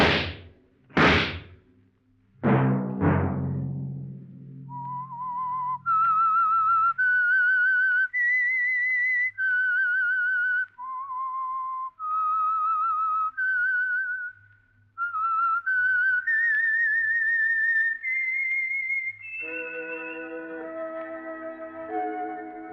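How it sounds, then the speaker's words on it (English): Theme of The Whistler, a 1949 Signal Oil radio drama: a few sharp whip-like cracks, then a lone whistled melody of steady, held notes rising and falling, ending as orchestral music enters. "Let that whistle be your signal for the Signal Oil program, The Whistler, each Sunday night at this same time."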